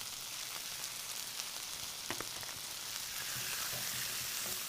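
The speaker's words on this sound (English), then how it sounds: "After that starts to sizzle, we add some strips of beef." Strips of beef sizzle steadily in a hot wok, a continuous crackling fry with occasional light taps of stirring.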